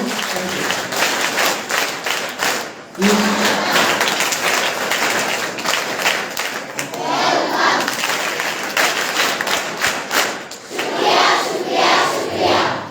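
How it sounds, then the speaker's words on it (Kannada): An audience breaks into sustained, loud applause to welcome guests at a public function, dense clapping continuing across the whole stretch with a short dip partway through. "ಇವರೆಲ್ಲರಿಗೂ ಸ್ವಾಗತ ಚಪ್ಪಾಳೆ ಮುಖಾಂತರ ಅವರ ಸ್ವಾಗತ ಕೋರೋಣ ಮತ್ತೊಮ್ಮೆ"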